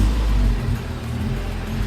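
Wrecked Honda car driving off, a loud, steady low engine rumble with road noise, close by and continuous, with no voices.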